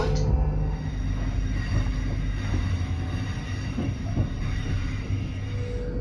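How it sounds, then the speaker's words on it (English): Inside a Class 458/0 commuter train carriage just leaving London Waterloo for Hampton Court, a steady low rumble and roar of running wheels with faint squeals and rattles, continuous and close. "So join me as we go for a ride on the Class 458."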